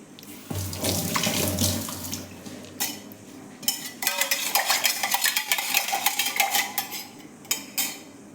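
Cold water running from a kitchen tap into a container while lemon juice is made, a steady close splashing stream that stops and restarts, with light clinks of dishes and a spoon stirring.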